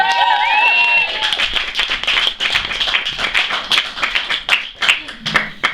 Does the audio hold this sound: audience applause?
yes